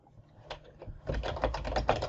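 Computer keyboard typing, a few isolated clicks at first, then a rapid, steady burst of keystrokes up close for the last second.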